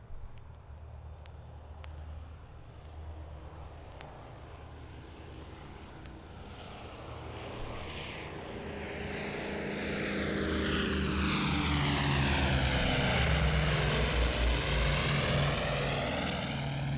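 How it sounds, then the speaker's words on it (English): Propeller planes pass overhead, a droning engine hum that swells steadily louder as they approach, its pitch sweeping downward as they go by, with no voices. "planes passing overhead"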